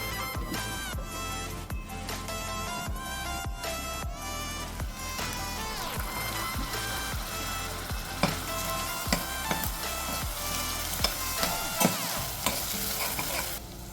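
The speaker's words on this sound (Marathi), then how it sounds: "हे देखील आपण तेलावर चांगलं परतून घेऊया थोडा वेळ हे वाटण आपण मंद आचेवर शिजवून घेऊया" Ground spice paste fries in oil over low heat for a lentil curry, crackling steadily while a spoon stirs and scrapes the pan in a regular rhythm, close and fairly loud, with no talk.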